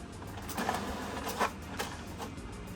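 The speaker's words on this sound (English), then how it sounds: "it sounds like it's printing" An HP Smart Tank 615 all-in-one printer prints an alignment page, a soft continuous mechanical whir with a few brief louder rustles as the paper feeds through, heard alone and fairly quiet.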